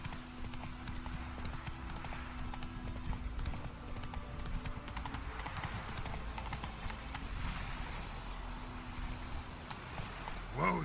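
Hooves of Roach, Geralt's horse in The Witcher 3, clip-clopping steadily at a walk through the whole stretch, with a faint neigh, over low game ambience.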